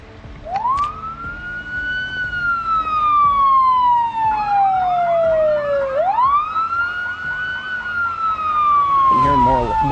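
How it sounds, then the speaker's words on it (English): A loud wailing car alarm in Project Zomboid sweeps up and down in long rising and falling tones, close and continuous, with a faint rumble of traffic beneath. "I'm hearing more of those car alarms these days."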